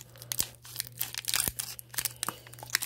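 Packaging is cut and torn open with scissors, giving a string of close, crisp crinkling and tearing bursts with sharp snips in an irregular rhythm.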